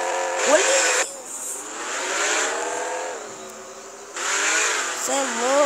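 A video game motorcycle engine drones with a high, buzzy whine, surging and easing in pitch over several seconds. It plays loudly and steadily, with a brief dip in the middle.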